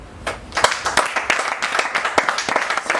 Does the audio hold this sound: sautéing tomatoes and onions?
no